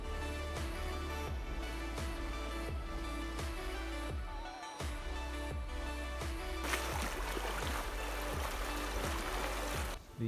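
The clear, high-running Escalante River flows and trickles in a steady low wash, faint and continuous with small splashing surges and no talking.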